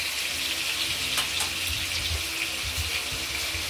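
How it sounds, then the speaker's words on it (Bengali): Pointed gourd fries in a pan with a steady, close hiss and crackle of oil that stays even for a few seconds. "ভাজা হোক, তারপর দেখাচ্ছি। ভাজা হতে থাকুক,"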